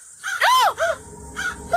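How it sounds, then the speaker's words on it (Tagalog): Several crows caw loudly and close by in a rural village, a few harsh calls in quick succession with a short pause before another burst. "Ayan po, ang dami pong uwak."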